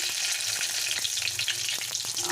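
Dried red chillies and bay leaves fry in hot oil for a lentil and gourd-greens dish, giving a dense, even crackling sizzle with quick popping ticks throughout, close and steady with no talking.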